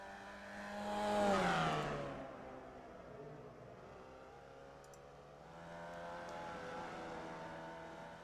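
A Volkswagen Beetle-based race car in iRacing roars past close by, its engine note rising then sweeping down in pitch, followed by a steadier, fainter engine drone from another car further off.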